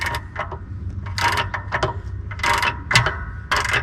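Bolts being tightened down on an IH 1066 tractor clutch, with a series of close, uneven metallic ratcheting clicks and clanks over a low background hum.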